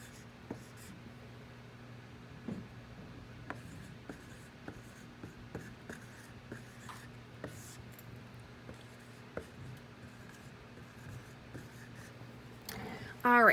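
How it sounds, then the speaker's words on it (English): Marker writing on a board in a classroom, faint scratchy squeaks and taps in short irregular bursts over a low steady background hum. "I'm actually going to write this one on the board"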